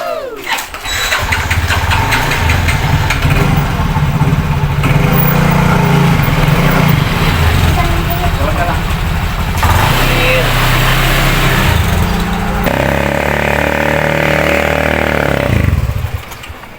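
A broken-down motorcycle engine revs and runs loudly up close, sputtering and surging unevenly throughout, with a voice speaking briefly over it.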